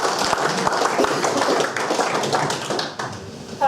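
An audience at a Wimborne Town football club supporters meeting bursts into dense, steady applause, many hands clapping close together for about three seconds before the clapping thins and fades.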